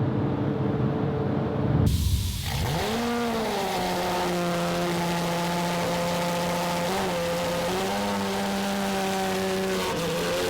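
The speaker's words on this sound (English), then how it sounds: "we're just gonna spray clear now" A steady, loud hiss of a spray gun applying clear coat runs continuously after a brief rumble at the start, with a whining compressor tone underneath.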